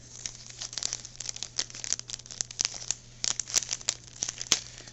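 Tape and plastic packaging on a magazine being peeled and torn open, a close, steady run of crinkling and ripping with sharp crackles over a low hum.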